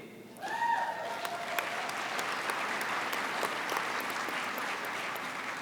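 Convention audience breaks into sustained applause after a brief quiet start, steady clapping filling the hall at moderate distance and holding to the end.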